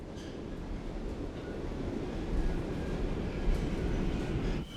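A subway train in a Korean metro system approaches Samsung station with a continuous rumbling roar of wheels and carriages, steady and fairly loud, with faint metallic clicks and a slight drop at the end.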